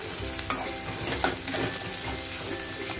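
Ginger and garlic fry in a pan for a dry green bean seed curry, a constant dense sizzle broken by repeated scraping strokes of a spatula stirring, close and alone.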